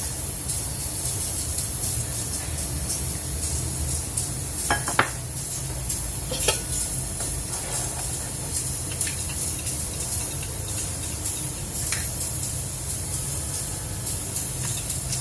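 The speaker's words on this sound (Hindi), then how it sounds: "आधा कप लिया है दूध मैंने, और देखिए बिल्कुल खौल रहा है।" Boiling milk, half a cup, poured and stirred with a fork, giving a steady hiss and bubbling under occasional soft clinks of metal against a pot, with no talking.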